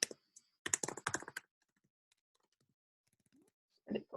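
Keyboard typing as a web address goes into a landing page builder: a quick burst of clustered keystrokes up front, then near silence with a few faint taps and a brief noise at the end.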